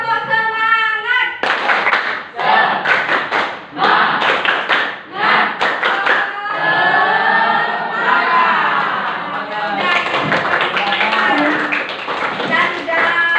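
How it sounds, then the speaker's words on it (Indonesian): Classroom pupils perform rhythmic 'tepuk semangat' spirit clapping in bursts of patterned claps, mixed with loud group chanting and a teacher's voice throughout. "Tepuk semangat."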